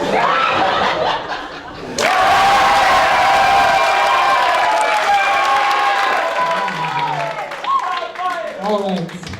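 A studio audience claps and chuckles for a contestant on a live game show, the applause swelling loudly about two seconds in and holding steady with scattered laughter and talk mixed through before it thins toward the end.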